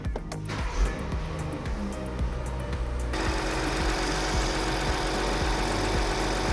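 A BMW G-series car with a wiring fault has its engine started, then settles into a close, steady idle with a rhythmic mechanical rumble.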